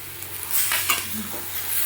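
Bone-in chicken with skin is worked together with a spice marinade, making close, moist squishing and stirring sounds with a couple of brief louder bursts.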